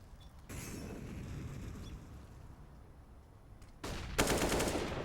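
Gunfire in Counter-Strike: Global Offensive during an esports match, heard as rapid automatic bursts and crackling shots at moderate distance, growing louder in the last second with a sharper volley.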